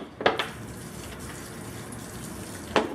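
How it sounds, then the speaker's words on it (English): Water squirts from a plastic water bottle onto bonsai trees, a steady close spray with a few short sharp bursts at the start and near the end. "As the water bottle gets less and less filled with water, it's harder to squirt water in."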